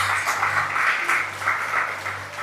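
Church congregation applauding during a lively worship service, a steady wash of clapping filling the room over a low hum, with no voices rising above it.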